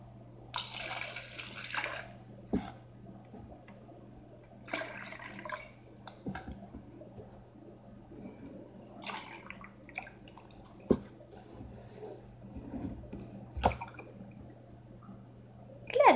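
Water is poured from four containers back into a single one, producing several separate splashing pours close by with quiet pauses between them, one near the start and others spread through the sixteen seconds.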